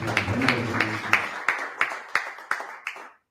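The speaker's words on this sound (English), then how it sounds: "And we have another round of applause." Rhythmic audience clapping at an environment and climate change conference, about three claps per second, starts under a brief voice, then continues steadily and fades out.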